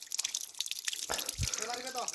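Natural spring water runs through a bamboo pipe in a mountain village in Arunachal, a light trickle and drip beneath someone speaking throughout.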